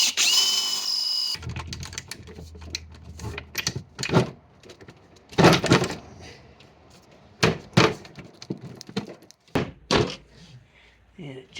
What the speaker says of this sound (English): Drilling the holes for the toilet seat.